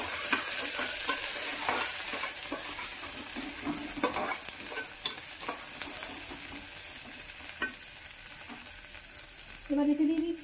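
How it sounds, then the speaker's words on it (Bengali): A spoon steadily stirs half a teaspoon of white coriander powder into a sizzling, frying mixture for vegetable dalia khichuri. Soft scraping strokes sound close over a constant low crackle, with no talking. "হাফ টিস্পুন সাদা ধনে গুঁড়ো, এটাকে ভালো করে মিক্স করে নিতে হবে।"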